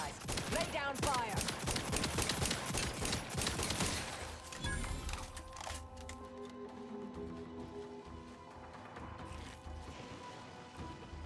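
Rapid gunfire in The Outer Worlds 2, loud dense volleys for the first few seconds, then fading into quieter game ambience and electronic tones.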